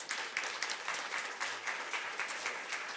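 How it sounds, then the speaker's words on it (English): Audience applause for a keynote speaker coming on stage at a UN food security event, a steady wash of many hands clapping, moderately loud and sustained throughout with no talk. "Give an applause when he comes up."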